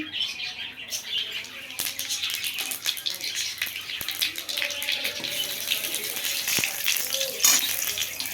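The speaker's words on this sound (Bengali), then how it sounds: "তেল গরম হয়ে গেছে, দিয়ে দিচ্ছি 5 ফোড়ন।" Panch phoron five-spice mix dropped into hot oil in a kadai, giving a steady hissing, crackling sizzle with faint pops throughout.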